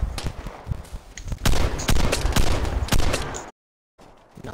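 Shotgun fire in the shooter game Vigor: a rapid series of loud, close blasts with sharp cracks and heavy booms, then a sudden cut to silence and a quieter tail at the end.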